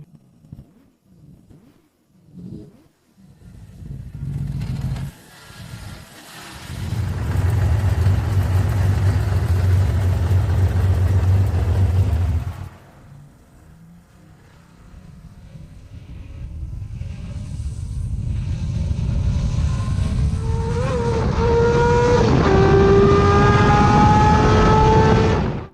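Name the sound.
Honda CBX 1000 six-cylinder motorcycle engine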